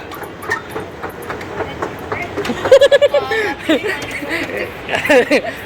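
A Hyderabad Metro train passes with a steady rumble and rhythmic rail clatter, close and moderately loud, while people talk nearby.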